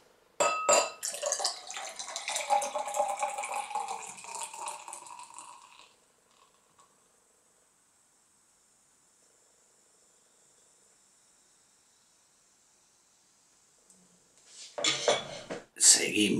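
Very cold beer pours into a glass with a fizzy, gurgling rush up close for several seconds, then near silence, then a short burst of pouring and clinks.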